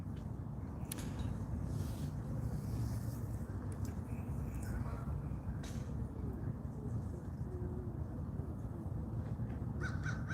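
A crow caws in short harsh bursts at a distance, faint over a steady broadband background rumble, with several calls spread across the stretch.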